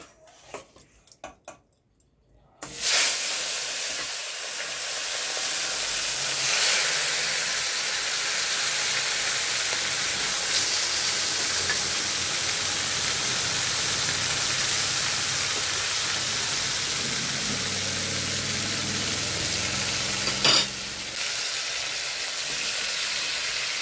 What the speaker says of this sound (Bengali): তেল দিয়ে গিলেমেটেগুলো একটুখানি লালচে লালচে করে ভেজে নেব।